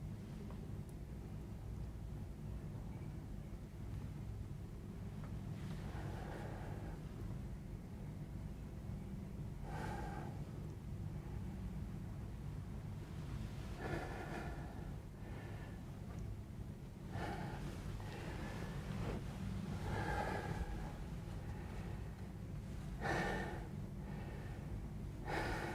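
Heavy, uneven breathing with gasps and sharp sniffing inhalations during a simulated panic attack, close and continuous over a low steady background hum, with bursts growing louder toward the end.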